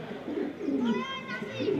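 A pedigree racing pigeon in a loft gives a brief, soft cooing call, close and fairly quiet, over low room noise.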